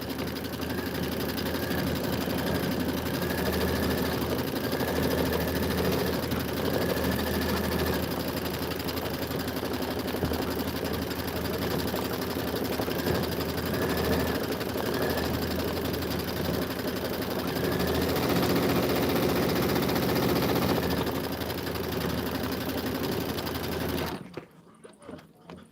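A sewing machine stitches steadily and loudly without a break for about 24 seconds, then stops abruptly, leaving only faint background sound.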